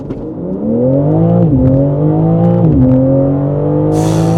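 BMW M3 CS with a 550-horsepower engine launches from a standing start, its loud, close engine roar climbing in pitch through two gear shifts as it accelerates hard.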